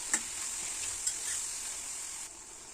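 Ginger garlic paste, turmeric and salt frying in a pan for mushroom curry, a steady soft sizzle with a couple of faint stirring clicks, continuous and fairly quiet with no talking.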